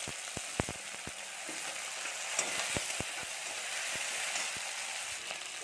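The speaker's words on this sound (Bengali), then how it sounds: "এবার আমরা ভালো করে শিমটা ভেজে নিই" Beans frying in a pan with ginger paste and chopped chili, a quiet continuous sizzle punctuated by sharp ticks and crackles of popping oil, fairly faint and with no talk.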